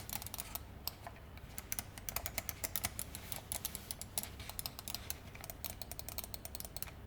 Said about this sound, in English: I actually find them to be some of the most satisfying and responsive primary buttons on a gaming mouse yet